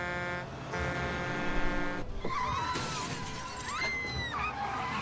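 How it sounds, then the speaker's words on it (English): A bus skids to a stop in a scene from the TV series Buffy the Vampire Slayer, with a harsh glass shatter, rumbling engine and drawn-out squealing screeches that rise and fall, loud and dramatic. "Vampires have the most effective way of stopping a bus."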